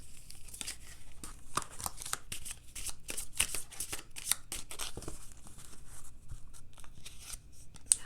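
Love Oracle tarot-style cards being shuffled by hand, with a steady run of soft riffling and papery slaps at close range for several seconds, no talking.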